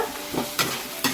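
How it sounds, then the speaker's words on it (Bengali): Spicy masala paste frying in a pan, a dense sizzle broken by two quick scraping strokes of a spoon stirring it, close and fairly loud. "তো মশলাটা এবার ভালো করে কষিয়ে নেব"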